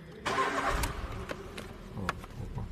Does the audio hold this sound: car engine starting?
yes